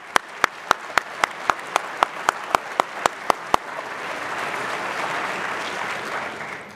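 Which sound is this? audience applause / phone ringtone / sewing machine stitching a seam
audience applause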